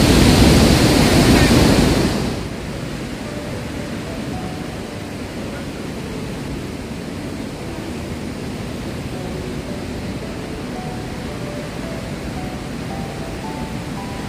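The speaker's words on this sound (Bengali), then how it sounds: "সুন্দর ওয়াটারফল, পুরো জলের ছিটেটা গায়ের মধ্যে লাগছে।" Rushing water from Weinia Falls in Meghalaya pours steadily as a broad, continuous roar, loudest and closest in the first couple of seconds before settling into a softer, even wash of falling water.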